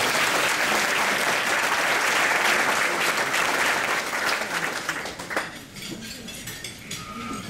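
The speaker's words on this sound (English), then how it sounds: "So give yourselves a round of applause." An audience at a foundation's birthday keynote breaks into dense, sustained applause that fades out over the last couple of seconds.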